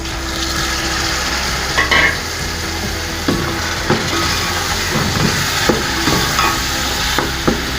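Half a kilo of boiled beef fries in a pot for beef pulao, giving a loud, steady sizzle with repeated scraping stirs and sharp crackles, close and without talk.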